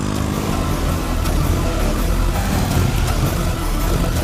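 Motorcycle engine running, a loud continuous close rumbling drone that holds steady throughout without talking.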